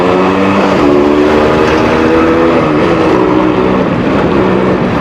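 Suzuki AX100 motorcycle engine held at full throttle with the choke on, a loud, steady, continuous drone with a rising harmonic whine, close up throughout.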